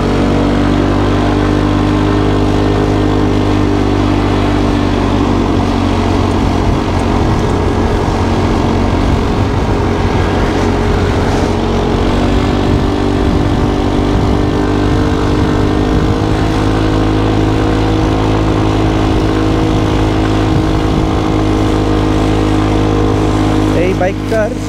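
A rented automatic scooter-style motorbike rides through Phuket, its engine droning steadily and loudly with wind rush for the whole stretch, while a person talks over it.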